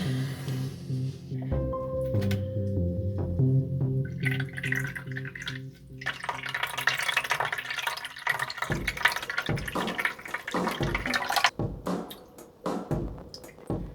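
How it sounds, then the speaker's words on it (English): Water poured over a Ficus benjamina bonsai during a November pruning and grafting session, a steady splashing and dripping trickle that runs alone for about fourteen seconds, growing busier and more broken in the second half. "next I'll just give the tree a bit of a watering"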